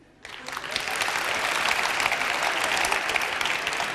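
Audience applause at a comedy show, bursting in suddenly and holding as dense, steady clapping from a full room.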